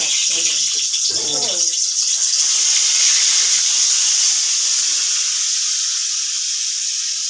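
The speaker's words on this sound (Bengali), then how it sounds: "এই তো আলুটা ভাজছি" Potatoes fry in hot oil with a steady, bright hiss and sizzle that runs throughout. A voice is heard briefly near the start.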